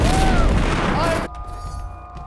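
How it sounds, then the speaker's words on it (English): A cannon fires in the pirate video game Shadow Gambit: The Cursed Crew, a loud, sustained booming blast that cuts off abruptly into a quieter ambient tail, close and heavy. "Cannon!"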